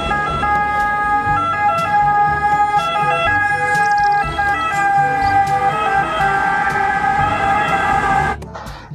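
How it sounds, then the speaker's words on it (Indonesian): A toy ambulance siren plays a loud, close electronic wail with cycling tones that repeat steadily, then stops abruptly at the end. "Yang ini ada mobil ambulans."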